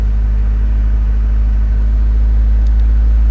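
A 1997 Suzuki Sidekick engine runs after starting, a loud, steady low idle rumble filling the clip close up with no talking.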